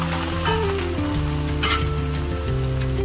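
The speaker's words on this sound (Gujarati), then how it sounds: "હવે તે મેલ્ટ થયા બાદ હું એમાં જીરું નાખીશ. લસણ, મરચાં અને અદરકની જે પેસ્ટ હતી એ નાખીશું." Cumin seeds and ginger-garlic-chili paste sizzling in melted butter for paneer butter masala, a loud close crackle with a brief burst midway over steady background tones.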